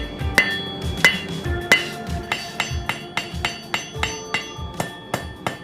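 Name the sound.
hammering a forged steel stock bar flat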